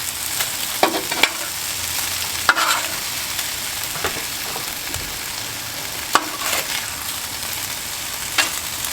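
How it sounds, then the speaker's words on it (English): Beef and tomatoes stirred and scraped on a hot Blackstone griddle, with a steady sizzle and occasional sharp clacks of a utensil, no voices. "Once they've got mixed in, we're going to mix them into the beef."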